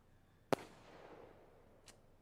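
A livestream donation alert plays a firework sound effect: one sharp bang followed by a fading crackle, then a fainter second pop, in an otherwise quiet room.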